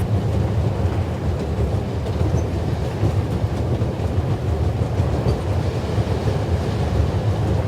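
The Orient Express in a video game rolls along steadily with a dense, continuous rumble and faint rhythmic clatter of wheels on track, sustained and fairly loud throughout with no pauses.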